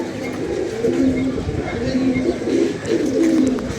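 Pigeons cooing in a rooftop loft, a steady run of low throaty coos repeating in rounds, fairly close, over a light background hum and faint murmur.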